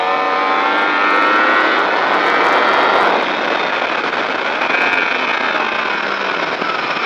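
A motorcycle on the race track at Le Vigeant drives past with a loud, steady engine whine that swells and shifts pitch as it accelerates, then eases to a lower drone.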